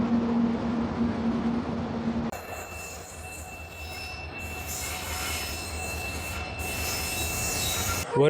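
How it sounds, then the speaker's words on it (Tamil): A Palakkad Town to Erode MEMU train pulling into a station, with loud, sustained high-pitched wheel squeal over rolling rumble and faint rail clatter, heard close by from the platform. "மறுபக்கம் பார்த்தீங்கன்னா பாலக்காடு டவுன்லேருந்து ஈரோடு போகிற மெமு பார்த்தீங்கன்னா நம்ம வண்டி உள்ளே வந்துட்டு இருக்குங்க"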